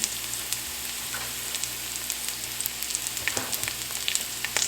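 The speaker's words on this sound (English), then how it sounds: "So now I'm going to add this onion." Chopped onion sizzling and frying steadily in a pan of oil, a continuous close hiss with small crackles and pops scattered throughout, no talking.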